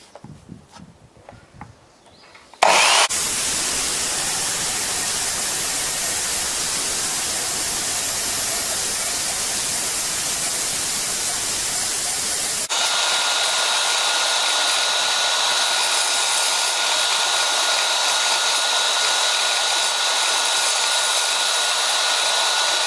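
A multi-material miter saw spins up to full speed and then cuts, a loud continuous whining roar that starts abruptly after a few quiet seconds and shifts in tone partway through as the blade bites, with no talk.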